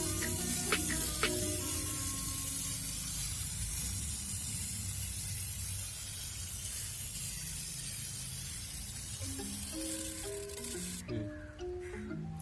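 Water is misted from a spray bottle onto the leaves of a tulsi (holy basil) plant, making a long steady airy hiss that runs close and continuous, with a few faint tonal sounds near the end.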